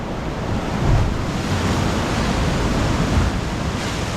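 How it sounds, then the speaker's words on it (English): Ocean waves crash loudly against coastal rocks along the Dee Why to Curl Curl rock traverse, a continuous roaring surf with surges and gusty wind buffeting close by. "But as you can see, that rock is pelted by the waves."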